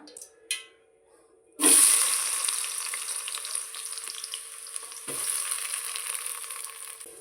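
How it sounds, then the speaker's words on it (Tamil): Onions go into hot oil and ghee for chicken biryani, hitting the pan with a sudden loud sizzle that settles into steady frying, then a second burst of sizzling as more onions are added, with a brief clatter beforehand. "இந்த டைமில் நம்ம வந்து வெங்காயம் சேர்த்துக்கலாம்."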